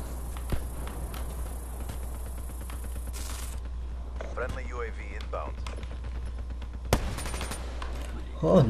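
Gunfire in the video game Black Ops 3 multiplayer comes as scattered shots and short bursts over a constant low game rumble, with a few sharper, louder reports and other in-game effects.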